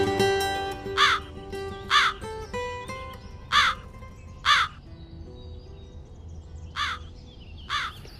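A crow caws six times in loud, evenly spaced single calls against a faint, steady background tone.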